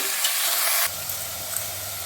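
Half a kilo of chicken frying in a pressure cooker, a bright loud sizzle that drops abruptly to a quieter, lower crackle as the pieces settle, with a few stirring scrapes.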